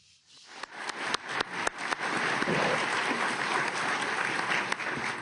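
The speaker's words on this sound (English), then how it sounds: "I think you could hear the applause all the way from Davos to the White House." An audience at the Davos forum bursts into applause after a US presidential speech; a few scattered claps build quickly into steady, full applause that holds to the end, moderately loud.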